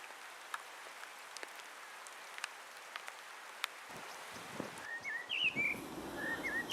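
Heavy rain pours down in a Swiss mountain valley beside a railway line: a steady, dense hiss with scattered sharp drop ticks, later joined by a low rumble and birds chirping nearby.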